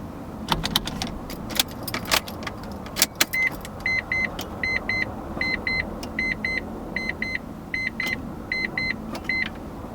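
Keys jangle and clatter near a Mazda RX7 being started, with a series of sharp electronic chimes and beeps repeating in short bursts over a quiet cabin hum.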